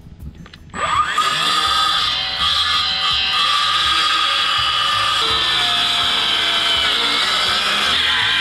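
A circular saw spins up with a rising whine and bites into wood while cutting a roof rafter for a horse shelter, holding a loud, steady cutting drone close by.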